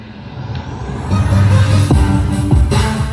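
A bass-heavy song plays loud through Sony home theatre speakers, its deep thumping low end throbbing steadily and growing fuller after the first second, with no talking.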